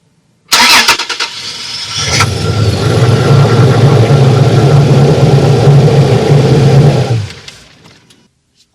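A Toyota Tacoma 3.5 V6 engine cranks and fires after a spark plug job with throttle body cleaner in the intake, then settles into a loud, steady close-up idle for about six seconds before shutting off.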